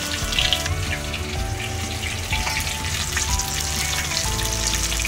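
Battered lote fish frying in hot oil, a loud, dense crackle and sizzle bubbling continuously with scattered sharp pops, close and unbroken, with no one talking.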